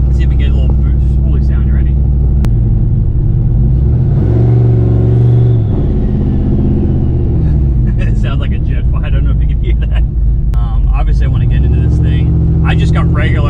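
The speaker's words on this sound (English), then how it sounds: "Let's see if we can get a little spoolie sound." A turbocharged Pontiac G8 GT engine rumbles loud and close, rising through a long rev with turbo spool and dropping back, while people talk over it.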